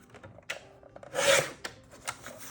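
A sheet of cardstock for a seasonal greetings album is cut down to six inches, giving a short, close, raspy scraping stroke amid quieter soft paper rustles and small taps.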